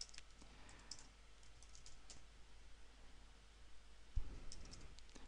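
Keys clatter on a computer keyboard in steady, quick bursts of light clicks, close and quiet against a faint room hiss, with no talking over them.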